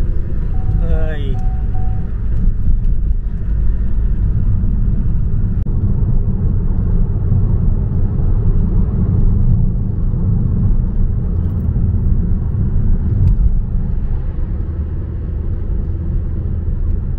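A car drives through traffic in the UK with a steady, loud low engine and road rumble filling the cabin, plus a brief rising chirp early on.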